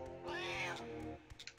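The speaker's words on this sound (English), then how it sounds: "Screw you, you stupid evil cat!" A cat in the Banjo-Tooie video game lets out one drawn-out, rising and falling meow, fairly loud and close, followed by a few short game sound effects.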